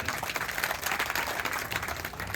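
An audience at a Republic Day mushaira poetry gathering in Surat claps to welcome a speaker. The applause is dense, continuous and fairly loud for the whole stretch.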